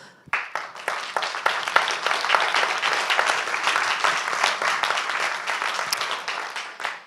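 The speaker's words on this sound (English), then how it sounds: "We can applaud you." Audience applause at an annual stakeholder meeting, many hands clapping in a sustained, even burst that starts abruptly and tapers off near the end.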